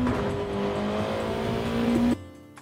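A Gr.2 race car accelerating at Suzuka in Gran Turismo 7, its engine note holding a steady high drone and rising slightly before cutting off abruptly near the end.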